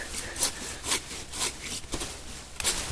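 A hand pruning saw cuts through old wood on a nectarine tree, with a rhythmic back-and-forth rasp of about six strokes, moderately close, in a quiet outdoor orchard setting.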